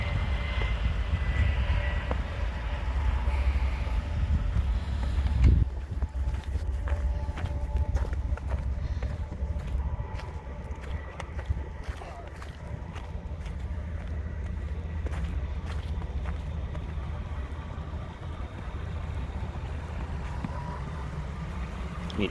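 A vehicle driving through snow and busting through snow drifts, a constant low engine rumble and road roar filling the whole stretch with occasional thumps and scrapes, no talk.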